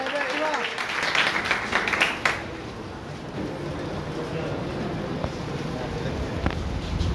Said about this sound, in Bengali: সকলে আমরা করতালি দেব জোরে।